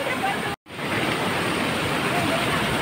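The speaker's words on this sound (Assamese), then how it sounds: "নিজৰা এখন বৈ আছে তাৰ কাষতে" A stream rushes beside the Vashistha temple in Guwahati, a loud, steady broadband roar of flowing water heard close by, cut off once by a brief dropout.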